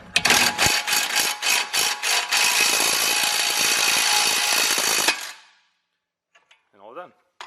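A suspension nut on a Porsche 911 being run down with a power tool, loud continuous buzzing rattle with a few short bursts, then it stops and faint clinks follow.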